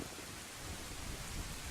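Steady rain in the Zelda Ocarina of Time video game, a constant soft hiss of falling drops, faint and even throughout with no voices.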